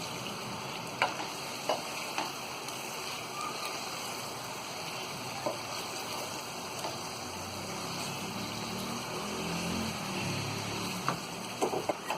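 Chicken tikka tossed into a prepared gravy for biryani fries and is stirred in a pan, a continuous sizzle with scattered spoon clinks and scrapes, close and moderately loud.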